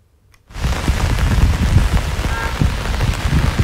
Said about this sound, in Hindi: आज सुबह से तेज बारिश हो रही है